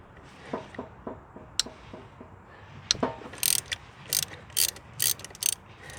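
Bolts on a 2004 Yamaha Breeze gearbox being cracked loose with an Allen key give a series of short metallic clicks and ratcheting snaps close by, followed by several louder, sharper bursts of tool noise.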